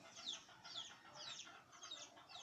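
Chickens cluck near a busy road, a run of quick, high, repeated clucks coming every half second or so, faint and fairly distant over a low background hum.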